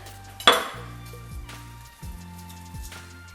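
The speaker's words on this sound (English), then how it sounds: "put it down, and then with the rocking motion of the knife" A knife slices an onion julienne-style with a rocking motion on a cutting board, giving one sharp knock followed by a few softer, spaced thuds against a faint steady hum.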